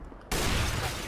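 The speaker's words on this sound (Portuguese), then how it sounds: "Você viu o tiro, você viu o tiro pegando na parede lá?" A Counter-Strike gunshot fires in sudden, loud, and close, and a dense crackling blast fills the rest of the brief moment.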